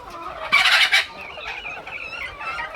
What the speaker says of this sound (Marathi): बघू शकता या आपल्या गावरान कोंबड्या